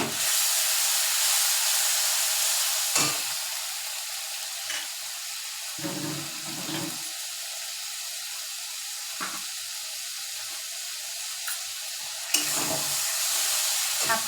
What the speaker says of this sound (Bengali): এবার আদা রসুন লঙ্কা পেস্টটা দিয়ে দেবো।